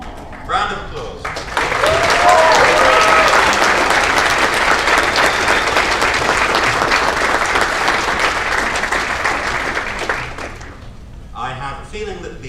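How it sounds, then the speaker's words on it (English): Audience at a voice actors panel during a Nightmare Nights Dallas 2014 convention breaks into loud, sustained applause lasting about nine seconds, with a few voices before it starts and after it fades. "Round of applause."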